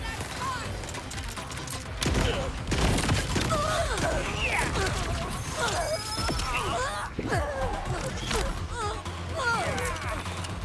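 Gunfire in the video game Borderlands 4, a dense rattling volley of shots and impacts running through most of the stretch, loud and busy, with game voices and cries mixed underneath.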